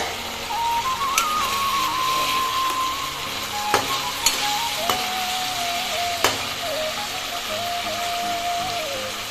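Pangas fish curry cooking in oil in a pan, giving a steady close sizzle and bubbling throughout, with a few sharp utensil clicks and a faint tonal hum running underneath.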